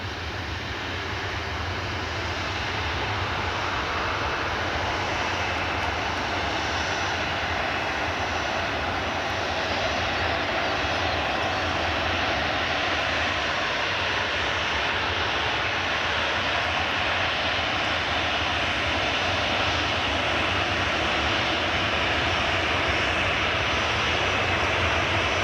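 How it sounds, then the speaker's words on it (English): Two Jet2 airliners taxi along at Glasgow Airport, their engines producing a steady, loud, continuous jet roar and whine that holds without break for the whole stretch, with no voices over it. "Got 2 Jet2s taxiing along."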